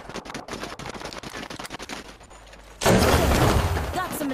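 Apex Legends gunfire rattles in rapid bursts of game shots, then a louder, dense volley of fire erupts near the end, with a voice speaking briefly amid the shooting.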